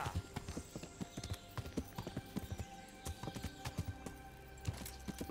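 Horse hooves clip-clop steadily in the medieval video game Kingdom Come: Deliverance, a quick string of sharp, fairly close hoof strikes with a faint whinny and a soft in-game ambience.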